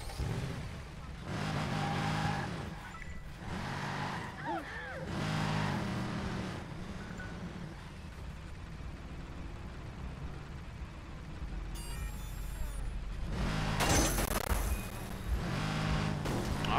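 Car engine driving in the video game Watch Dogs, a loud steady drone with several surging revs through the first half, shifting to a rougher continuous roar later, with a voice talking over it at times.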